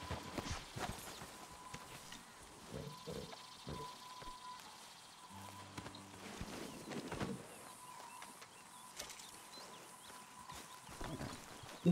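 Horse hooves clip-clop at a walking pace in Red Dead Redemption 2, steady moderate footfalls amid faint ambient game sounds.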